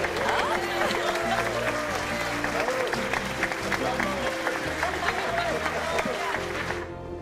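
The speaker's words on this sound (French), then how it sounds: "On doit applaudir." Audience applause after a children's Christmas stage play, a steady wash of clapping over music with a voice talking through it, fading out at the end.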